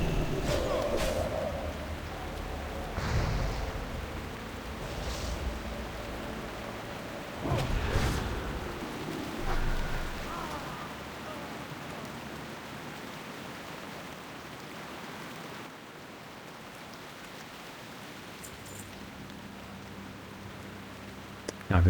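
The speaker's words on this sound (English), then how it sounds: "That is some loud rain." Loud rain in the game Turtle WoW, a steady broadband hiss of downpour running through the scene, with a few louder gusting swells early on and a voice talking over it at times.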